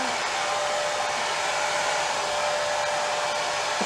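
A heat tool set to low blows a steady stream of hot air over a wet acrylic paint pour, a continuous close whooshing roar with no talk.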